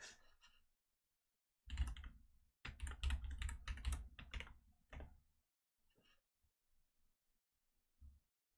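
Close computer keyboard typing in bursts of quick, fairly loud clacks separated by silent pauses, with a few faint isolated taps trailing off near the end.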